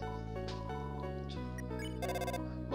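A phone rings in the video game Undertale: a steady, musical electronic ringtone with shifting tones, moderately quiet and heard alone without talk.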